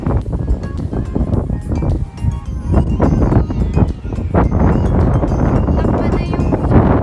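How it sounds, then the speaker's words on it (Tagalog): Strong, steady wind roars and buffets across the microphone in Legazpi, Bicol, near the sea, a constant loud rush with low rumbling gusts throughout. "Sobrang lakas ng hangin."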